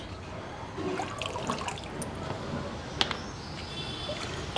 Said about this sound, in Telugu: ఎక్సెస్ వాటర్ దీంట్లో కారిపోతుంది.